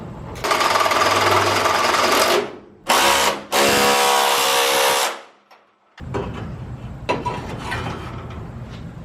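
A power tool bolts a one-piece front end onto a Chevy S10 pickup. It whirs up close in loud bursts: a long run, a short blip, then another long run. A pause follows, then quieter shop noise.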